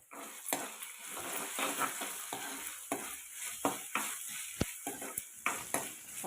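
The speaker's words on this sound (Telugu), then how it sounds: "అల్లమెల్లి పేస్ట్ పచ్చిదనం పోయేలాగా బాగా ఆయిల్లో ఫ్రై చేసుకోవాలి" Onions frying in oil with ginger-garlic paste, stirred with a spatula; a steady close sizzle punctuated by repeated scraping knocks against the pan in an uneven rhythm, no talking.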